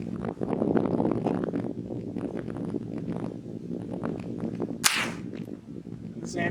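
Rimfire rifle firing old ammunition outdoors, with one sharp, loud report standing out near the end over a steady windy background and faint broadband rustle.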